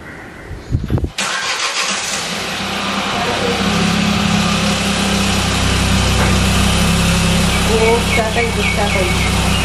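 A car engine, started remotely from a smartphone, cranks and catches, then settles into a steady idle with a rumbling drone; a few faint beeps sound near the end.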